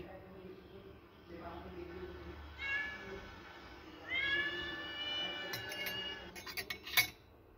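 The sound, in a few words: cat meowing outside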